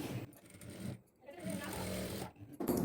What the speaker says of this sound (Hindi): इसी पे सिलाई लगा लेंगे।